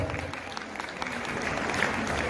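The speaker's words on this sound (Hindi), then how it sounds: "तालियां अनवरत।" An audience at a Digamber Jain Mahasabha gathering keeps up steady applause, a busy wash of clapping at moderate volume that swells slightly toward the end, with some crowd murmur mixed in.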